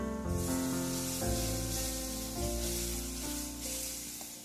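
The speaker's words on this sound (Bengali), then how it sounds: "এবার কড়াতে পরিমাণ মতো তেল দিয়ে তার মধ্যে নুন হলুদ দিয়ে পেস্টটা ঢেলে দেওয়া হবে" Spice paste with salt and turmeric hisses in hot oil in a kadai for a mango-sour dish, a steady sizzle running continuously beneath a prominent sustained tonal hum or music.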